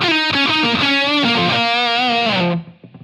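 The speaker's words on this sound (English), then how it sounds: "You can hear a bit of room reverb there" Distorted electric guitar chords played through a Line 6 Helix processor ring out loudly for a couple of seconds, then cut off, leaving a short tail of room reverb fading away.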